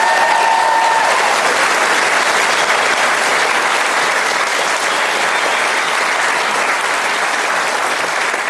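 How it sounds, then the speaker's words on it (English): A big crowd at a National Hurling League Sunday event welcomes the team manager and captain with loud, sustained applause, a dense roar of clapping holding strong and steady for over eight seconds. "You can give them a big round of applause and welcome."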